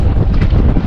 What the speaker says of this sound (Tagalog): tunog ng hangin